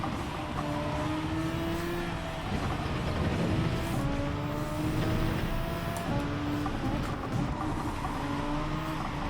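Toyota race car engine in Gran Turismo 7 at Spa, a loud continuous whine rising and falling through gear changes with tyre noise underneath, no speech.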